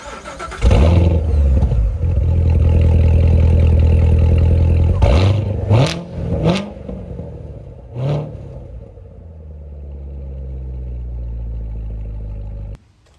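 A Corvette C7 Z06 with a 7-speed manual fires up with a loud rumbling exhaust, then delivers several sharp throttle blips and another rev before settling into a steady idle, heard close and without talk.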